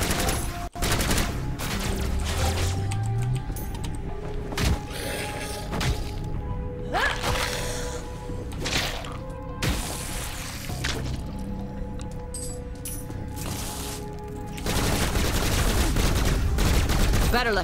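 Rapid automatic gunfire in the video game Bombshell, sustained bursts of fast shots mixed with thuds and impacts under busy game music and effects.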